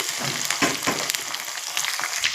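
Onion and curry leaves frying in a pan, a loud, close, continuous sizzle with bursts of crackle and stirring scrapes, no talk.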